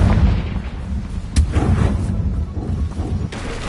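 A Confringo spell explosion in a video game gives a continuous rumbling blast with deep booms and sharp cracks, loud and close across the whole stretch, with a few distinct impacts standing out.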